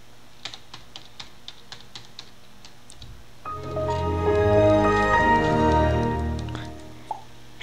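Password typed on a computer keyboard running Windows XP, a run of evenly spaced close key clicks followed by a swelling tonal startup chime with a final click.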